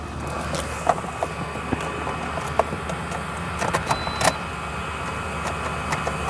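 A Toyota RAV4 with a weak battery whirs in a steady, loud, close mechanical drone as its engine cranks during an attempted start, broken by occasional clicks and knocks.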